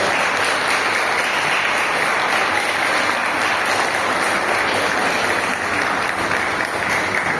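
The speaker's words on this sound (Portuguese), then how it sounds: "ostaria de dar as boas-vindas para o Misael, com uma salva de palmas muito forte" Loud, steady applause from a church congregation during a worship service, continuous dense clapping that holds evenly throughout with no speech over it.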